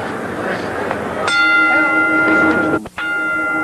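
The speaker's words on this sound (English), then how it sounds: "The bell for round 2." A boxing ring bell clangs to open round 2 of a heavyweight bout, a bright metallic strike with a long ringing tail over arena crowd noise, cut briefly before a second hit.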